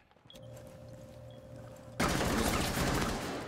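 Heavy sustained gunfire in the tactical shooter Rainbow Six Siege erupts loudly and fills the second half, after a quieter stretch with a faint steady hum.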